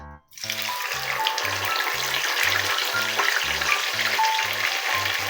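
Hot cooking oil sizzles in a pan for frying tilapia. The sizzle is loud and steady, close up, with a low rhythmic pulsing beneath it and no talking.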